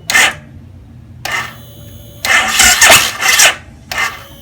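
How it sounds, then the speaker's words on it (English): Cranking attempts of a car engine powered from a Topdon T01 18000mAh jump starter: short bursts of loud starter whir separated by pauses, with a longer churning crank in the middle, no catch. "Key on, fuel pump's going, starting real quick."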